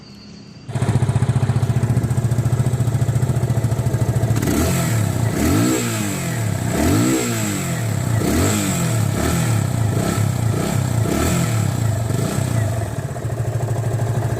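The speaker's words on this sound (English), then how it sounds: "as you can see that I'm riding FZ25" A Yamaha FZ25 BS6 V3 motorcycle starts up and is ridden, its single-cylinder engine rising and falling through repeated revs and gear changes, loud and close throughout.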